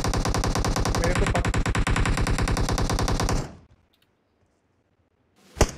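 Sustained rapid automatic gunfire from a live-streamed shooter video game rattles loud and dense for about three and a half seconds, cuts to near silence, then a single sharp burst lands at the end.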